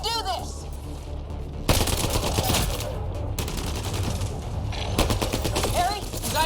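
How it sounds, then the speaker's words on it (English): Rapid automatic gunfire from a video game, dense and continuous bursts of shots filling the whole stretch, with loud volleys layered over a steady rumble and other game effects. "Just keep firing!"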